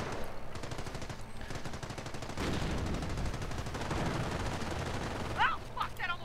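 Rapid bursts of machine gun fire in a WWII strategy video game, crackling steadily through the scene with other gunfire around it and a voice talking over it.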